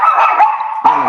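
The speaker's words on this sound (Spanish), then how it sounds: "Perdón por los perros." Dogs bark close and loud in a steady run of yips and barks, briefly pausing before another bark.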